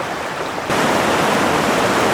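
A mountain stream rushes over rocks at a backpacking crossing on the South Lake to North Lake route, a steady broadband wash that swells louder after a brief quieter start and carries on with no voices.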